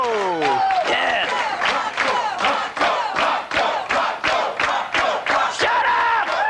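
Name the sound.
studio audience cheering and applauding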